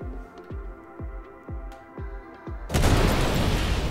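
A size 4 missile explodes against a ship in a space combat video game, with a loud sudden boom and hissing blast that follows a run of steady, evenly spaced rhythmic thumps.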